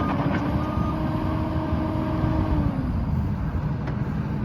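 A Cat 308D CR mini excavator drives to park, its diesel engine a loud, steady rumble with a faint tonal whine, heard close and without talk.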